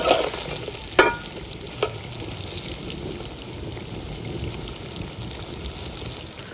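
Chicken finger fry cooks in a pan over a village-style fire, giving a continuous bright sizzle and hiss with a couple of sharp clinks near the start, close and fairly loud, with no one speaking.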